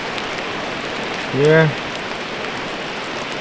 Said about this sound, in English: It is raining quite a lot right now